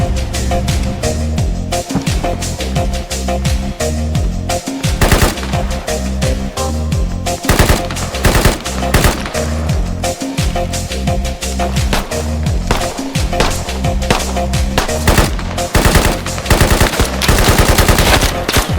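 Loud, relentless bursts of rapid automatic machine-gun fire in the video game Squad crackle almost without pause, with heavy repeated shots and dense rattling throughout; no voices.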